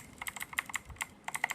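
Clicky keystrokes on an Armaggeddon MKA-9c mechanical keyboard with aluminium panel, a quick irregular burst of sharp close-up clacks with a short pause midway, no talking.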